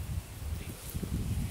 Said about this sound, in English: Kind of windy today, but makes the wind chime sound pretty.